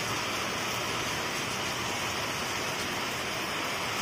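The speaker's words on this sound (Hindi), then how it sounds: "बहुत भयंकर बारिश आ गई है" Steady, dense hiss of heavy monsoon rain pouring continuously in Jodhpur, with no breaks and no voices.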